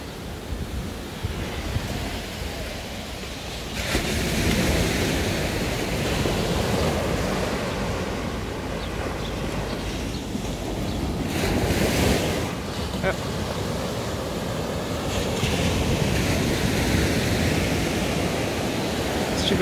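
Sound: ocean waves at Balneário Camboriú beach

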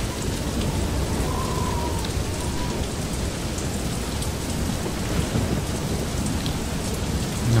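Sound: thunderstorm with rain in the video game Far: Lone Sails

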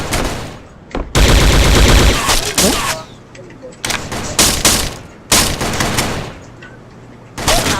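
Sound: gunfire in a video game

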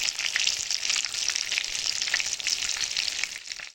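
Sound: food frying in a pan

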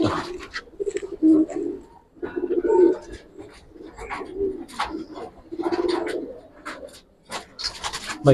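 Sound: pigeons cooing

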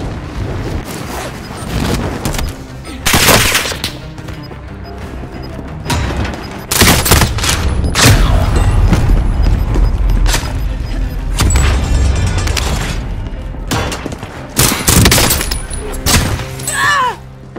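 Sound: gunfire in video game Warzone

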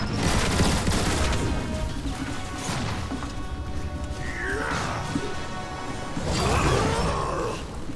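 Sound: gunfire in video game War for Cybertron

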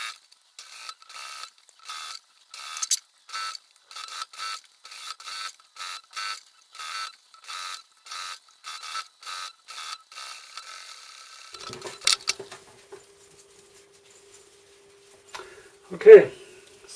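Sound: sewing machine stitching a softshell vest

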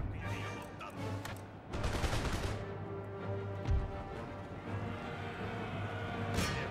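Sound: musket gunfire in the video game Empire: Total War

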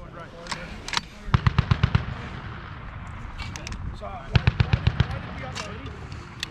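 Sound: M2 .50 caliber machine gun firing bursts

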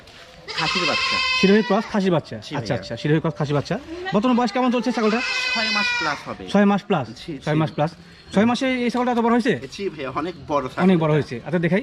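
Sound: young castrated goat bleating, Sirohi cross

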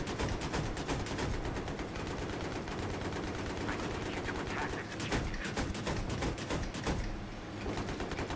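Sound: gunshots in Battlefield 3 video game

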